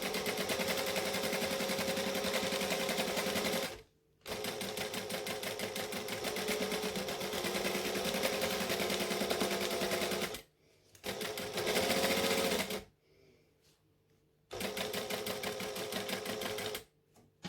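A sewing machine stitches the curved pocket of a pair of shorts in fast, even chattering runs broken by several short pauses, loud and close.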